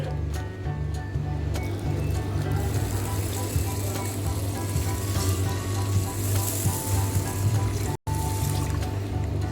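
Water fills a rice cooker pot over washed rice, a steady continuous pouring and trickling that runs unbroken nearly the whole time with a low hum beneath, briefly cut off near the end.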